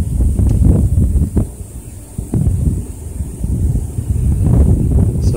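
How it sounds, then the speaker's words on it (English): Steady wind buffets the microphone outdoors, with low rumbling gusts rising and falling throughout; no voices are heard. "It's got a little windy."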